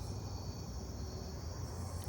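Crickets and katydids chirp in a steady, continuous summer-night chorus, a dense high-pitched trilling that stays even and moderately faint throughout with no voices.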